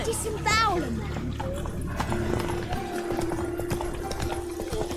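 Hoofbeats of the horse Roach galloping in The Witcher 3 video game, a fast rhythmic clip-clop under game music and voices, with a brief whinny-like cry early on.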